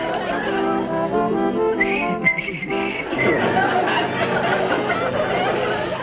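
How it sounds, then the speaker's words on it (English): A man whistles a bright melodic tune in clear, sustained notes, and then a studio audience answers with chatter and chuckles that swell over the end of the melody. "would whistle a tune for us"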